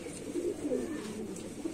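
Pet pigeons kept by a fancier in Daraganj, Prayagraj, coo in soft low murmurs close by, a steady gentle burbling with no talking.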